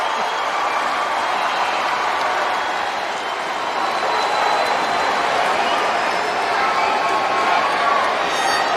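A packed WWE No Mercy 2007 wrestling arena crowd cheers and claps in a dense, steady roar that continues unbroken, with commentators' voices faintly beneath it.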